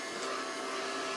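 A Kitfort KT-567 robot vacuum cleaner runs with a steady, close whirring hiss that holds evenly throughout with no talk.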